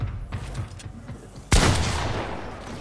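Gunfire in Fortnite strikes player-built structures: a sharp, loud burst hits suddenly partway through and rings out into a dense, decaying wash, with quieter game noise before it.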